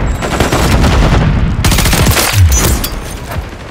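Sustained automatic gunfire from Call of Duty: Modern Warfare III on the Stash House map, loud dense bursts of rapid shots with a heavier thump partway through, no talking over it.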